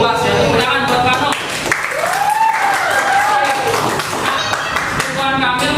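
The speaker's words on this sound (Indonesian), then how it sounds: "Tepuk tangan buat Pano." A classroom of students applauds a classmate, loud close clapping that runs through the clip alongside a voice and rising tonal chatter in the room.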